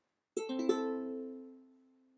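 A single ukulele chord is strummed once, ringing brightly and then fading out slowly.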